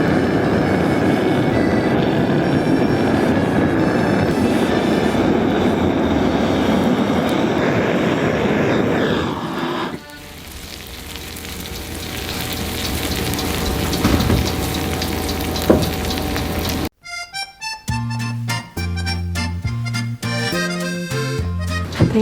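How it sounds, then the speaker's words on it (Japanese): A kitchen torch caramelizes brown sugar on top of crème brûlée, giving a loud, steady roaring hiss for about ten seconds. A quieter, uneven hiss with faint crackles follows, then music enters near the end. "ブラウンシュガーを使ってキャラメリゼしていこうと思います"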